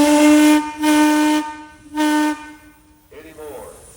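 Steam whistle on a small model steam tractor built like a Climax locomotive at a steam tractor parade, three loud, steady, reedy toots of about half a second to a second each, then a voice begins talking.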